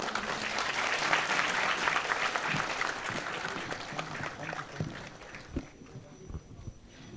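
Audience applause at a healthcare industry and academia summit, a sustained round of clapping that fades to scattered claps toward the end, with some speech.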